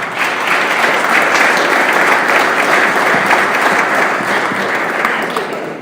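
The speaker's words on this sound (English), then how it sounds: "we give a big round of applause to our panel" Steady, dense applause from a conference audience honoring a panel, sustained at an even level for several seconds with no voices standing out.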